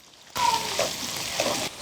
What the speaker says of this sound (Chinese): 大火翻炒均匀，生抽酱油、鸡精、白糖，下蒜苗一起炒。